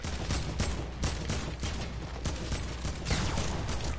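Gunfire in a video game, where a shotgun turns up, sounds as a loud, near, rapid burst of shots running steadily through the whole stretch with no talk.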